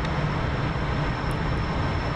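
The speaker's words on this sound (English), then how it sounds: "You can launch off the end of the deck." Steady, loud roar of an F-14 jet engine launching off a carrier deck in the DCS flight simulator game, a dense continuous rumble with a thin high whine, no talking.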